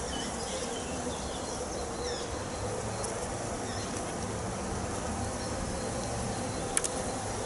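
Honeybees drone softly and steadily during a hive inspection while frames are handled, with a few faint chirps and a small click late on.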